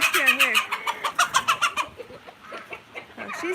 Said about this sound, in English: Let's see if we can catch some chicken action.